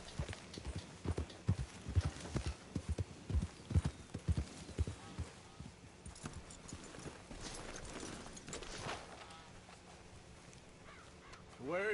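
Horse hooves clip-clopping in Red Dead Redemption 2, a steady rhythmic trot of fairly close hoof strikes that slows and fades out midway, followed by quieter outdoor ambience, a crow cawing and a brief snort or whinny near the end.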